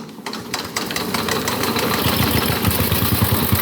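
A 115-year-old Hudson motorcycle engine fires up and settles into a steady idle, its rapid knocking beat loud and close, with a sharp clatter at the start and no talking.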